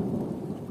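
Steady, dense rain pours down outdoors at a village flood-water fishing spot in a tribal area, a continuous loud wash with a low rumble beneath and no voices.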